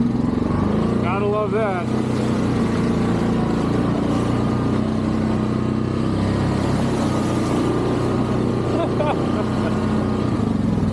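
A Yamaha Grizzly 700 ATV idles through a mud pit with a steady, loud, close engine drone that runs throughout, while someone speaks briefly over it.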